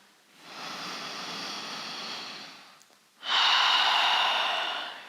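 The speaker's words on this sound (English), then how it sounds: "exhale out through the mouth" Long, slow breath pushed out through the mouth during a beginner yoga flow, two airy exhales in sequence with a short pause between, the second louder and closer, no talking.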